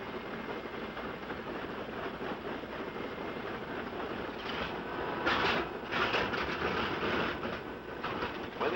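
Aircraft engine starting up on a World War II bomber before flight, a steady loud mechanical roar building and surging over several seconds, with no talk.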